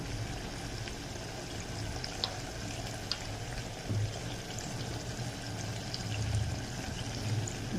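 Tamarind juice pours into goat head curry made with mutton and chilli powder, a soft, steady liquid splash running for several seconds at low volume with faint kitchen clatter and no talking.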